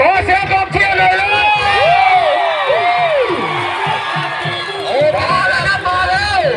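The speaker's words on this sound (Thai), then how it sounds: "ขอเสียงกองเชียร์เลยเลย" A crowd of spectators cheers at a competition, with whoops and shouts rising and falling loudly around an excited announcer's voice over a busy, reverberant din.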